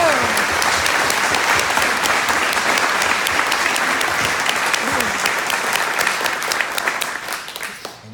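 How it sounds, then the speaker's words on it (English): Audience applause at a Progressive Keys To Progress car giveaway ceremony for a 2016 Hyundai Sonata: dense, steady clapping from a crowd that holds for most of the stretch, then thins and fades near the end. "Let's give Zeny one more round of applause."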